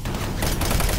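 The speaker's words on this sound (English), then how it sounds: "Oh yeah, chain gun." Chain gun firing in Doom 3, a loud continuous rapid burst of automatic gunfire filling the whole moment with dense rattling shots.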